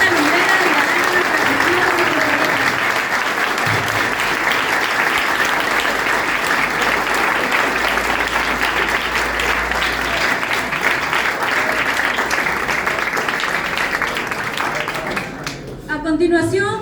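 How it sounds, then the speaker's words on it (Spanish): An audience at a school literary gathering applauds, dense sustained clapping from many hands filling the room for about fifteen seconds before tapering off, with a few voices mixed in. "Fuerte los aplausos para tan digna lumbrera"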